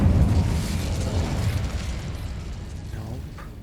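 A fire spell cast in a video game erupts as a loud, booming blast with a rushing roar that slowly fades over a few seconds, and faint talk sits underneath.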